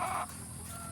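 A chicken gives a short, loud cluck, then quieter farmyard ambience lingers with a faint high tone.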